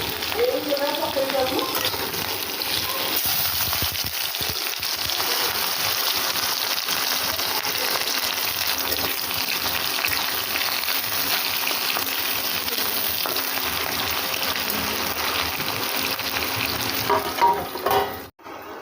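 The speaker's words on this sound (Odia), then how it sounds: "ତାକୁ ଏବେ ରୋଷେଇ କରୁଛି ମାଛ ତରକାରୀ ହେବ" Fish curry cooks in a pan with a steady, loud sizzle and intermittent stirring that runs nearly throughout, then breaks off briefly at the very end.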